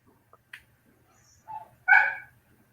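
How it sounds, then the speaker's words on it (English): A dog lets out a few short, sharp barks and yips close by, the last one loudest, against an otherwise quiet background with a faint low hum. "Oh, who's got the dog?"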